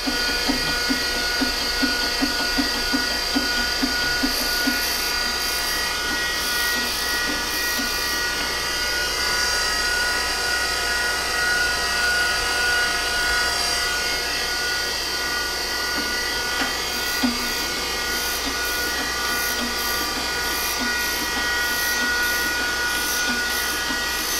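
A surface grinding machine working a steel V-block, its steady high-pitched whine and hum running continuously at close range, with faint periodic ticking and scraping passes throughout and no speech.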